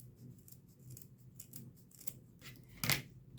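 Scissors snip through twine in a few faint, close cuts, ending with one sharper, louder snip, in a quiet room with no talking.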